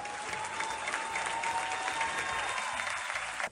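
Studio audience on a morning TV show breaks into loud, continuous applause, a thick wash of clapping with a faint tonal hum underneath, cutting off abruptly just before the end.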